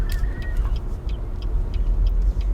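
A car engine running loud with a low, steady rumble, and faint squeaks and ticks from steering that needs oil, close up and without talk.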